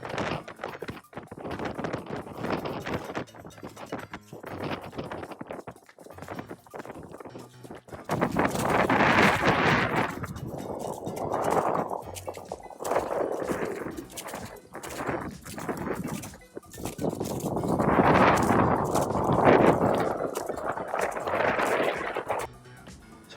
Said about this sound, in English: even though you can hear the wind is very, very strong